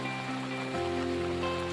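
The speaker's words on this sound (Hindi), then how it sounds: "देखिए कितनी तेज बारिश हो रही है, एकदम धुंधला हो गया है।" Heavy monsoon rain pours steadily over flooded fields near the Ganges, a dense, continuous hiss of falling water with a faint droning hum underneath, no voices.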